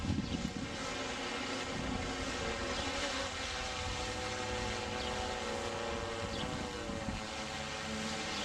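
A UPS delivery drone landing makes a steady, dense whirring drone of spinning rotors that holds even throughout, moderately loud and fairly close, with no voices over it.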